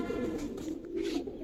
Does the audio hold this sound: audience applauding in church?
no